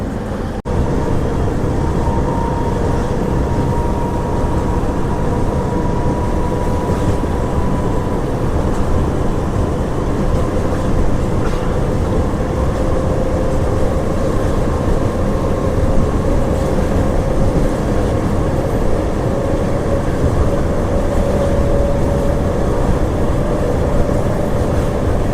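A Nandyal to Tirupati DEMU passenger train in motion, heard as a steady, loud rumble and roar that continues unbroken throughout, with faint tonal whine above it.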